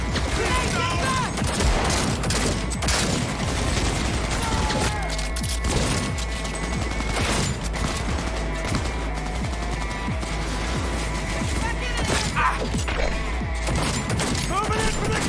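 Grenade blasts and sustained automatic gunfire fill a Cyberpunk 2077 Phantom Liberty video game firefight, loud and continuous throughout, with voices shouting over the din.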